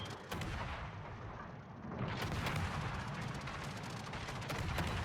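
The cruiser Aoba fires an artillery volley in a naval battle video game. Heavy booms blur into a sustained, rolling rumble of gunfire that swells and stays dense for several seconds, with no voices.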